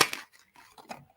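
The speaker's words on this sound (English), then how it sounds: "I'm shuffling cards and they're going everywhere." A deck of cards being shuffled during a card reading, giving a brief burst of papery riffling followed by a few softer scattered flicks and slides, close and fairly quiet, with no talking.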